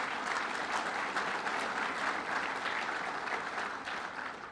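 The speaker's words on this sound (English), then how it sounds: "let's give them a round of applause." A round of applause from the audience at a state budget presentation in Utica, dense and steady throughout before easing slightly at the close.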